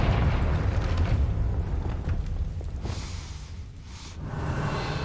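A Confringo fire spell explodes in the Hogwarts Legacy video game, a broad, low booming burst with a rushing roar that swells and fades over several seconds, with no talk.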